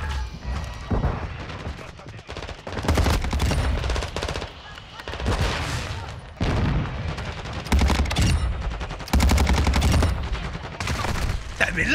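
Rapid automatic weapon fire in a video game, loud sustained bursts of machine-gun shots with short gaps between volleys, close and dense throughout.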